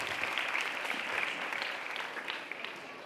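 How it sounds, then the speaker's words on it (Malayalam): A school annual day audience applauds in a dense, steady clapping roar that holds evenly for about three seconds before easing slightly at the end. "എങ്കിൽ ഒരു കിടിലൻ കയ്യടി"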